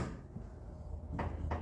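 Door of a Mopar B, C or E body muscle car swinging shut after hinge pin repair, giving two broadband thumps near the end over a low steady rumble in a garage.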